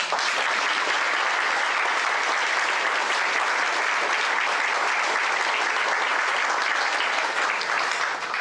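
An audience applauds at a talk, dense sustained clapping from a large crowd that stays loud and even throughout.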